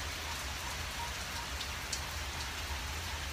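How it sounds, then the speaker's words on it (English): Heavy rain pours steadily over Myrtle Beach, South Carolina, a dense, unbroken hiss of drops with a low rumble beneath, constant and close throughout, no voices. "It's pouring rain right now."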